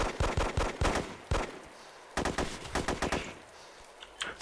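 Gunfire in the DayZ video game, several loud bursts of rapid shots, then a pause and another volley of sharp reports, close and dominant.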